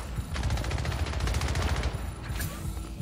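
Rapid automatic gunfire from the Splitgate video game, a fast steady burst of shots lasting over a second, followed by a short sharper shot sound, over a constant game background.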